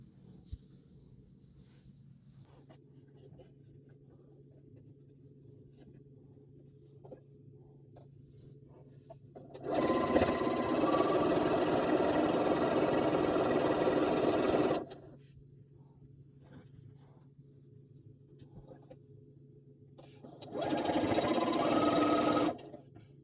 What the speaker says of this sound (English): we're going to take it to the sewing machine and we're going to go 1/4 inch down both sides.